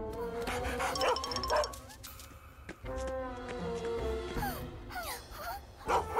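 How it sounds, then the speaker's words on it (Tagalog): A cartoon service dog barks and yips in several quick bursts, with whimpering cries between them, set against a bright animated soundtrack. "Isang aso na serbisyo!"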